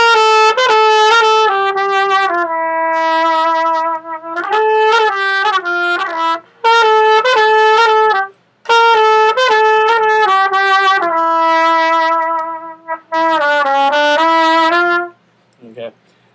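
Solo trumpet plays the opening melody of a song, bright sustained and repeated notes in phrased groups with short breaths between, loud and close, no accompaniment.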